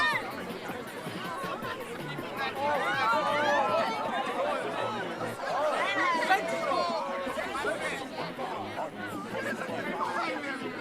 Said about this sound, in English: The crowd really getting into it.